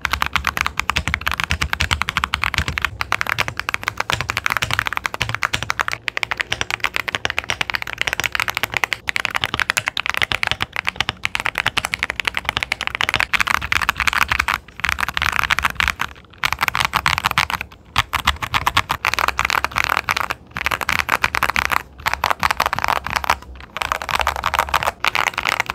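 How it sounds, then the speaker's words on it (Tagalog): Rapid, continuous typing on Akko MOD007 v3 mechanical keyboards compared side by side, dense clacky keystrokes with brief pauses between bursts, close-miked and loud, no voices. "ilagay ko na rin yung side by side na mga typing para lang makita nyo talaga yung mga differences nila"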